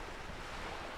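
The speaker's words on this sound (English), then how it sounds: "I don't know if the ocean is just loud" Ocean waves from the Disco Elysium game soundscape form a continuous broadband wash of surf with wind-like hiss, steady and moderately loud, with no voices.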